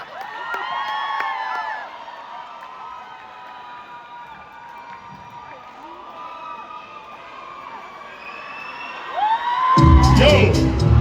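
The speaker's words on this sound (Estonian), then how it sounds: "Tege suur aplaus 5 miinusele" A large outdoor concert crowd at a song festival ground cheers and whoops, with several people shouting and calling out. A sudden loud roar of applause and cheering swells in the last second.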